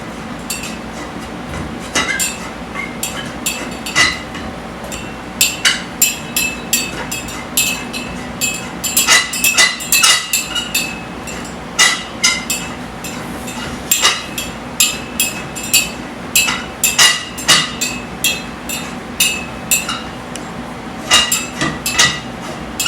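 Metal dance pole sections are screwed together by hand, giving repeated light metallic clinks and taps in irregular bursts that are fairly close and steady over about twenty seconds, with no talking.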